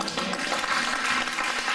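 A church congregation applauding during a sermon at Eglise Novation, a dense, steady wash of many hands clapping throughout, moderately loud with no voice standing out.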